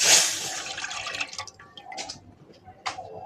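Orange juice for homemade orange jelly is poured into a pot: a splashy rush at the start, then scattered drips and small trickling sounds, close and fairly quiet.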